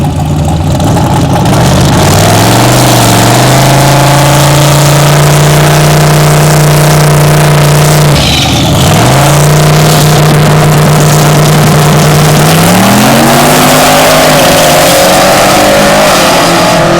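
A 106mm turbocharged Camaro drag car at HPT making a test pass, engine droning loud and steady with a brief dip midway, then revving higher as it pulls down the track.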